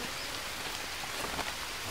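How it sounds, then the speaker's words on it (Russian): Steady rain falling in the survival game Green Hell, a dense continuous hiss of raindrops with no voices. "Дожди идут, воды у нас много."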